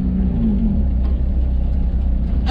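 A 1980 Datsun 720 pickup's engine drones steadily and close by, with a low rumbling note that rises briefly as the truck pulls under load, continuing without pause.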